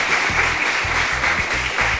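A crowd at a student STEAM summit applauds steadily for a city councilwoman, with close, continuous clapping and some low thumps running through the two seconds.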